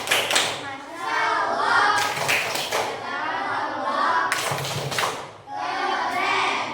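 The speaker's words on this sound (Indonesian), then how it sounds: "Coba tepuk apresiasi." A class of schoolchildren claps in appreciation, irregular claps mixed with chanting children's voices in a classroom, moderately loud and close.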